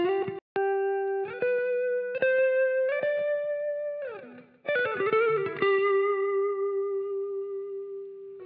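A Stratocaster electric guitar runs through reverb in Guitar Rig, playing clear sustained single notes and a strummed chord that ring out and fade into a smooth, spacious tail, with no voices.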